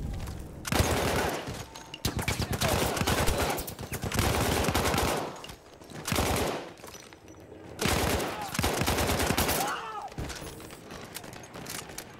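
Gunfire from a gun in the Battlefield 1 video game rattles in several loud rapid bursts, each lasting a second or two, with short quiet gaps between them.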